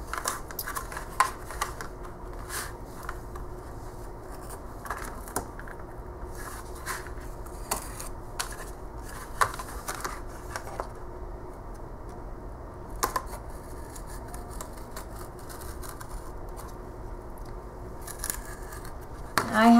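A craft blade slowly and gently scores the paper cover of a handmade boxed mini album, giving faint, close, scratchy cuts and small ticks spaced unevenly through a quiet room, with no speech.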